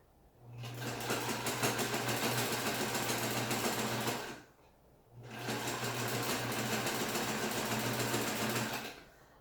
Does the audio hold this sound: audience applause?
no